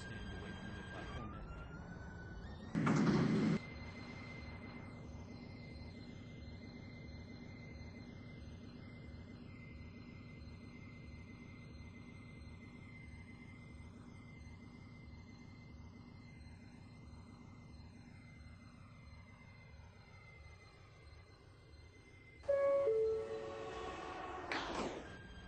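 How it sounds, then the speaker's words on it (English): A subway train in the Roblox game Subway Testing Remastered rumbles steadily through a station with a sustained droning hum and wheel noise, bracketed by two short bursts of louder mechanical sound near the start and end. "There is an express train approaching the station."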